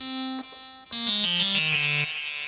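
A bright synth plays a short descending run of sustained notes, drenched in reverb with a lingering wash and a brief gap between phrases.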